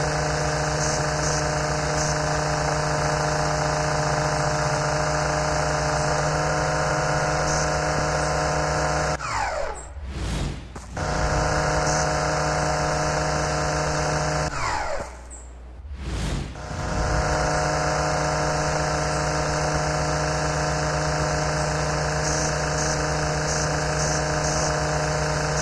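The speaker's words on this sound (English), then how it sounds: "Want to stop the engine." Lawn mower engine running close and loud with a steady droning hum, dipping twice briefly as if throttled down before picking back up.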